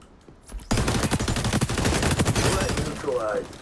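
Gunfire in the first-person shooter XDefiant rattles out in dense rapid bursts after a brief quiet start, loud and near, continuing for about three seconds before tapering off.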